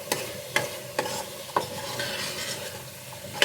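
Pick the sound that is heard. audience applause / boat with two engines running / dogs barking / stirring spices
stirring spices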